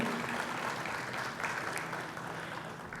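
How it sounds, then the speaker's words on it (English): Audience applause for an award winner at a young alumni excellence awards ceremony, a steady, moderately faint wash of clapping that carries through without a break. "A huge round of applause, ladies and gentlemen."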